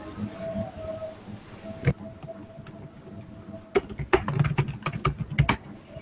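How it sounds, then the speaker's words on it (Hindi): Keyboard typing picked up by an open microphone in an online class, heard as scattered clicks and clatter, sparse at first and then denser bursts in the second half over a faint background hum. "मेरे को टाइपिंग की बाकी चीज़ों की सबको आवाज़ें आ रही हैं"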